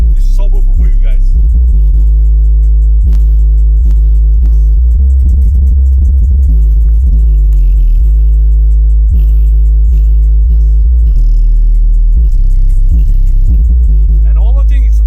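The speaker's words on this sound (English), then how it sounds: "If you need a lot of crazy bass, this is subwoofer for you guys." A MOBIATOR 12-inch 1600W subwoofer plays a deep bass test in a truck, with loud, sustained booming low notes that pulse and shift in rhythm throughout, and the cab rattling with it.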